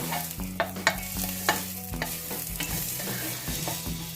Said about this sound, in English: for our sauce, I'll put half tablespoon of butter.